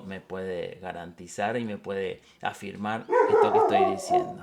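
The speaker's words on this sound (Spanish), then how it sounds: "ese es mi perro." A pet dog barks several times mid-distance, the yaps overlapping someone speaking Spanish throughout.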